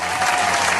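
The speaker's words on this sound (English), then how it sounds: "Oh, we got some applause bringing us in." A short burst of dense applause from a crowd, loud and continuous for under a second, with no voices over it.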